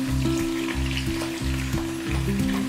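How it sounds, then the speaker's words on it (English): Steady, loud sizzling of dried sprats frying in hot oil, with a rhythmic low clatter repeating underneath throughout. "heat oil and fry these sprats until they become golden brown"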